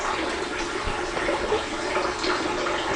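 Water trickles and splashes continuously inside a small dome dwelling, a steady close flowing wash with no voices.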